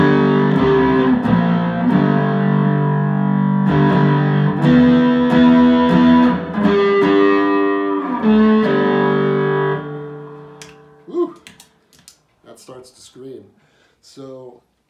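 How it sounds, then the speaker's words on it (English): Sustained electric guitar chords through overdrive and reverb pedals ring out loudly with a washy reverb tail for about ten seconds, then fade into quieter picked notes and brief murmurs. "I like playing just with the overdrive and the reverb."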